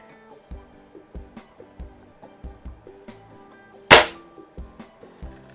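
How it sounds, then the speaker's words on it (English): A Feinwerkbau 124 air rifle fires a Meisterkugeln or JSB match pellet offhand across a garage at 20 feet. One sharp, loud crack stands out over steady rhythmic background music. "now I'm just shooting at 20 feet offhand across the garage here"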